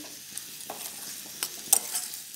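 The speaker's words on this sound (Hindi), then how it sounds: "तो अभी हम प्याज को पिंक करेंगे" Onions fry in a pan for dal makhani, giving a faint, soft sizzle broken by a few light scrapes and clicks of stirring.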